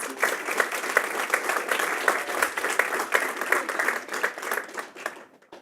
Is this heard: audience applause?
yes